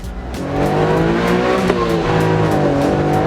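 The tiny engine of the world's smallest car revs hard to 8,000 RPM and holds a high, strained whine, steady and loud, with no voices.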